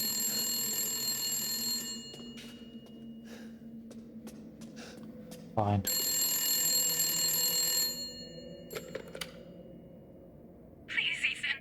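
A telephone rings in the horror video game Resident Evil Village, bright repeated electronic ring bursts separated by pauses, with a short word spoken and other game sounds between the rings.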